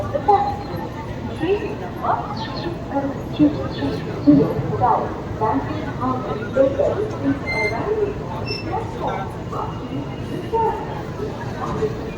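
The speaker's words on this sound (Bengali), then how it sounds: "ট্রেন খুবই আস্তে আস্তে চলছে।" An LHB-coach Howrah–Radhikapur Kulik Express rolls slowly into Liluah station in Howrah district, its low, uneven rumble and soft clanks running beneath nearby passenger talk and chatter throughout.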